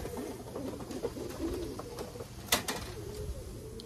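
Soft, low cooing of a racing pigeon repeats in a murmuring rhythm, faint and close, with a sharp click or tap partway through.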